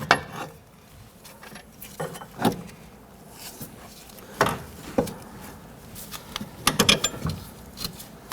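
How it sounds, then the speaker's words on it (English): Bolts being removed from the front lower control arm of a 1992-1996 Toyota Camry with a ratchet: scattered metallic clicks, clinks and brief ratcheting bursts, close and fairly quiet, with pauses between. "Then we'll go ahead and remove these two bolts and set those aside."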